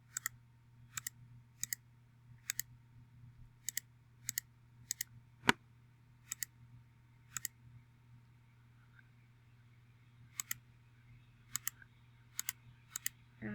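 Computer mouse clicks placing points with a lasso selection tool, sharp isolated clicks at irregular intervals of about a second, close and crisp over a low steady hum, with no talking.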